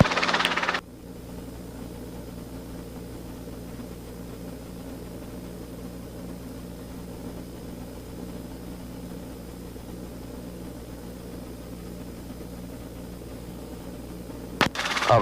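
Helicopter engine and rotor running steadily at an airport helipad during takeoff, a continuous low droning hum with harmonic bands throughout, no talk, brief clicks at start and end.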